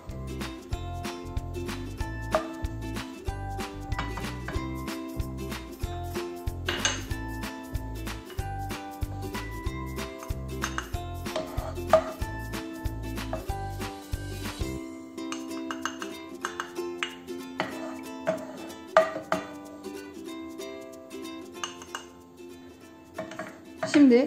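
A spoon clinks and scrapes in a frying pan while melted beef fat is scooped out for a meat kavurma, with small repeated metallic taps heard over steady background music.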